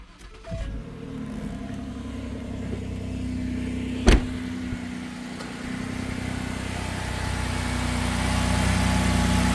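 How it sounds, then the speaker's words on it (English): A rebuilt car that was once written off by insurance starts up and settles into a steady, smooth idle, its low engine hum close and continuous with a brief sharp click partway through. "I'll go ahead and start it. Then we can close it out with the engine actually running, because it does run good."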